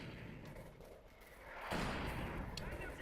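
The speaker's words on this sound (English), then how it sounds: "indirect firepower sets off that mine" Artillery fire in a World War II strategy video game sets off a buried mine, a faint rumbling backdrop that swells into a heavier muffled blast partway through.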